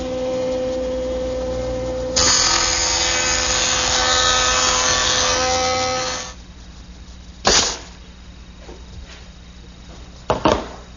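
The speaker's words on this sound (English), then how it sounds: "I'm going to make a couple passes through the joiner" A jointer planes 3/4 inch wood stock in a loud, steady whine that rises as the board feeds through, then stops and leaves a few sharp knocks and clunks.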